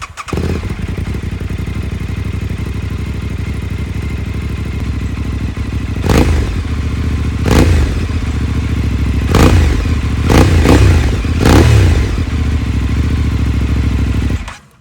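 An Aprilia Tuareg 660 parallel-twin motorcycle idles with a steady, close exhaust rumble, punctuated by several sharp throttle blips and revs in the second half before cutting off.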